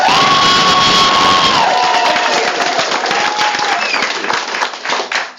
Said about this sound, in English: clap and applaud if you oppose billboards